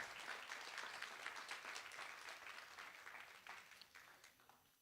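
A church congregation claps together in a steady, even wash of applause that begins full and slowly thins and softens toward the end, heard at low volume with no talking over it.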